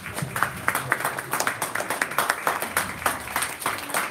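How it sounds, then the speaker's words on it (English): An audience claps after a Keswick High School jazz band performance at a festival, a moderate, uneven patter of hands heard fairly close, with voices faintly underneath. "Let's give all these amazing performers one big round of applause."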